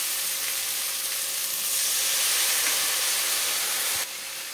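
Cumin, coriander, turmeric and chilli powders frying in a pan hiss loudly in a broad, steady sizzle once water is added, fading a little at the end.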